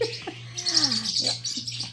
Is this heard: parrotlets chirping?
yes